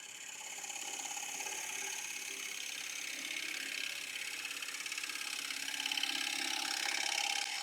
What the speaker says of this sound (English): just time for the last little rub, negative rake scraper